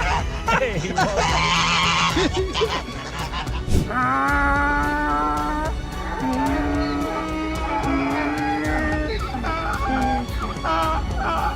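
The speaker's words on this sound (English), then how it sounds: "This goose is very happy to see this man" A goose honks loudly and repeatedly up close, with other fowl calling and a voice talking intermittently underneath.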